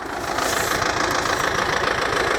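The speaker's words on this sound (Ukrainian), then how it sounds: "Ось такий у нього трактор Янмар FX 435." A Yanmar FX 435 tractor engine idles steadily nearby, a loud, even diesel rumble with a slight knocking rhythm and no voices.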